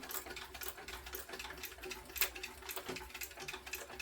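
Sewing machine stitching backpack material, a quiet, rapid ticking patter of needle strokes in a steady rhythm with a faint motor hum underneath, close by and alone.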